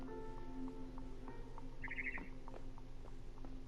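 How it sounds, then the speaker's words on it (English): Barn swallow chirping outside a window in the video game What Remains of Edith Finch, a short faint twittery call and scattered light ticks over a steady low background hum. "Then I heard chirping outside my window. It was a barn swallow going back to her nest."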